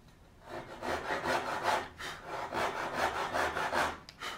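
Short rhythmic hand-saw strokes nibble a crosscut kerf into a piece of wood, close and steady at about two strokes per second, with no voices.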